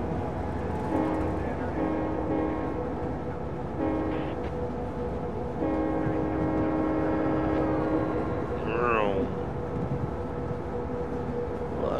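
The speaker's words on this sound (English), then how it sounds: "Oh, there's another train." A long American freight train in the Train Simulator 2014 game rumbles past, a steady loud mechanical drone with humming tonal layers and a rising whine near the end, with no speech over it.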